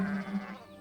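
A sheep bleats once, a sustained wavering call, fairly faint and heard alone with no talk over it.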